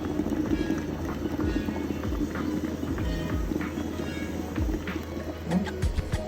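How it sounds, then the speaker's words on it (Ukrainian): Water rumbles at a rolling boil in a kettle with a steady bubbling roar, close and fairly loud, and a few sharper pops near the end. "Якраз закипає чайник і ми якраз додаємо кипяточка"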